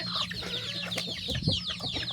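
Free-range domestic chickens at an evening feeding of paddy rice cluck and chatter close by in a steady, busy stream of overlapping calls.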